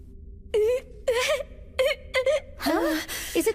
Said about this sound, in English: does it sound like someone is crying?